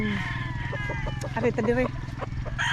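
Chickens at a market cluck and squawk in short bursts, close by, mostly beneath someone talking steadily in the foreground.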